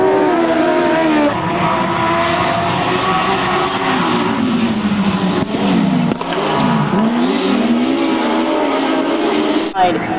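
Grasstrack racing machines roar past at a British Masters meeting, their loud engines whining and shifting pitch as they drive hard through the bends, with a commentator speaking over the continuous noise.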